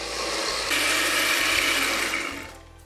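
A blender whirs through a cake batter of grated cheese, grated coconut, butter and wheat flour, a loud steady motor drone that rises in pitch partway through, then winds down and stops.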